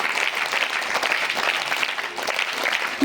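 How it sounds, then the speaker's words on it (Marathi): A school audience claps for a speaker, with dense, continuous applause holding steady throughout and no voices over it. "टाळ्या"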